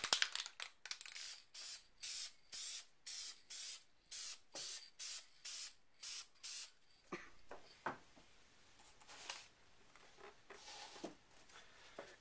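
Short bursts of spray paint coat an Xbox 360 controller, about a dozen evenly spaced hissing pulses close to the mic, followed by quieter scattered rustles and handling noises.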